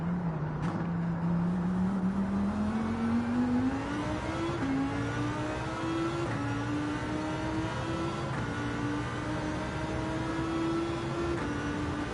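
A Lamborghini Huracan in Gran Turismo 7 revs its engine, the pitch climbing steadily through a long pull with a brief dip at a gear change, heard alone and fairly quiet.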